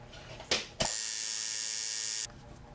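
A tattoo machine plugged into a power supply, tuned to 50 duty cycle and 110 cycles per second, runs with a steady, close electric buzz for about a second and a half after a brief click.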